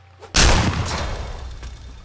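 A firecracker explodes in the Friday the 13th video game on Xbox One: one sudden, loud, sharp blast that rumbles and fades over about two seconds.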